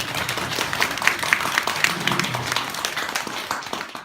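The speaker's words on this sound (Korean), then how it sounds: "박수 한번 쳐주세요." An audience applauding at a Buddhist Dharma service at a temple, a dense, sustained wash of many hands clapping close by.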